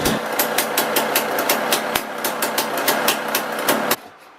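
Rebuilt KTM 300 two-stroke dirt bike engine running with choke on, a loud steady rattling idle with regular ticking pulses close by, cutting off sharply near the end.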